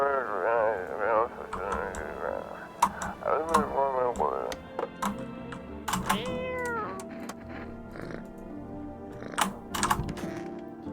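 A cat meows repeatedly in wavering cries, with quick keyboard typing and clicking mixed in, and human speech heard around them.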